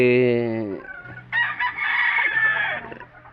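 A fighting rooster crows loudly and close by, then a second bird's rougher, noisier call follows right after.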